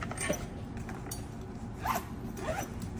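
A bag zipper is drawn shut in a few short, quiet zips after an oxygen regulator is packed away, close by with a faint room hush between pulls.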